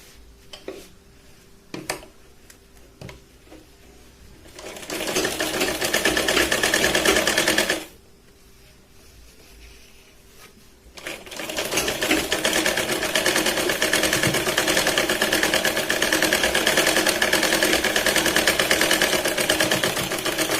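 A sewing machine stitches the edge of a katori blouse in bursts: quiet handling and faint clicks, then a loud steady whirring run of about three seconds, a pause, and a longer continuous run to the end.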